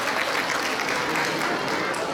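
An audience claps to welcome a speaker at a Hindi-language event, steady dense applause filling the short stretch without breaks.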